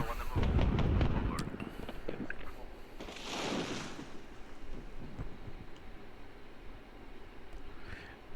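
Video game combat with booming gunfire and explosions as a BMP armored vehicle comes under fire, a heavy blast up front followed by rumbling, scattered shots and a continuous battle din.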